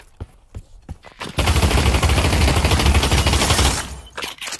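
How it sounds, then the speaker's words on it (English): In the Pavlov VR shooter game, a few sharp single shots give way to a sustained, loud burst of rapid automatic gunfire lasting about two and a half seconds, then more scattered shots as it fades. "Stop shooting at me."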